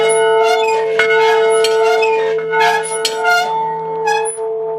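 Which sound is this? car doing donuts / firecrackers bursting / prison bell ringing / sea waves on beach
prison bell ringing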